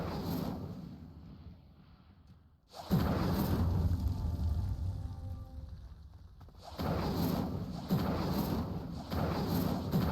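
Incendio fire spells cast to light sinking pyres in the video game Hogwarts Legacy, heard as several loud, booming whooshing bursts of flame, one near the start and a longer surge around mid-clip followed by further blasts.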